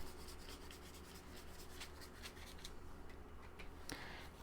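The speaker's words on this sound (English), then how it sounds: "I just want to get some of these bigger ridges and make sure, and I'm just dry brushing it on there." Dry brushing paint onto the raised ridges of an old cracker box being made into a journal: soft, steady scratchy bristle strokes rubbing across textured cardboard, close and faint, with no voices.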